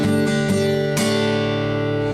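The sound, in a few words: Guitar strumming, next chord pattern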